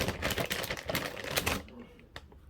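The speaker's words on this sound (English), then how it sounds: "what we're gonna do, we're gonna cut up some vegetable" A knife chops rapidly on a cutting board through onion, sweet pepper, garlic and ginger, giving a quick run of dense close taps that stop, followed by a single faint knock.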